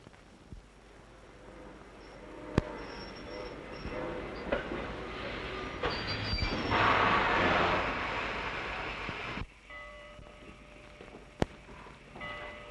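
A train rumbles along with rising and falling mechanical noise, a few sharp metallic clanks and squeals cutting through the steady roar.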